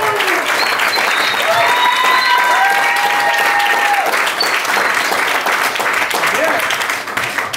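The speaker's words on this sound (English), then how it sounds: "So please give it a round of applause for yourself." Concert audience at the Laguna Beach Cultural Arts Center giving sustained, loud applause, dense clapping throughout with occasional whoops and cheers mixed in before it begins to fade.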